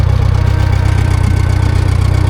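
A farm tractor used to haul a fertilizer hopper idles loud and close, with a steady low, pulsing engine rumble throughout and no voices.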